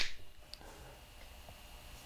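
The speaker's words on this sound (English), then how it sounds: "if you and I clap together" Two people clap their hands together at once while recording into a Roland P-6 sampler. One sharp, close clap opens the moment, followed by a few much fainter, scattered claps with no talking.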